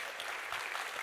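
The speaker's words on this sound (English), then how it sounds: "More of those claps now" Applause from a conference audience at a programming talk, a dense, steady wash of many hands clapping throughout the short moment, without distinct individual claps.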